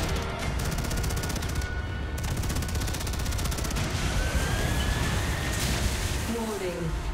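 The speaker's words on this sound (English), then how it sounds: "Turrets are firing." Turrets in the StarCraft II Heart of the Swarm campaign fire rapidly and continuously, a loud rattling barrage with brief sweeping tones near the end over constant battle noise.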